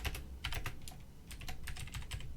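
Rapid clicking of computer keyboard keys in irregular bursts with short pauses, close and fairly quiet, no voices.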